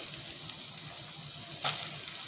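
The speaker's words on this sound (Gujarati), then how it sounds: "તો ડુંગળીને આપણે અહીંયા ગેસની ફૂલ ફ્લેમ પર સાતરી લઈશું।" Finely chopped onion sautés in a pan over a full gas flame after ginger-garlic paste, giving a soft, steady sizzle and hiss with a brief brighter burst partway through, close and quiet with nobody talking.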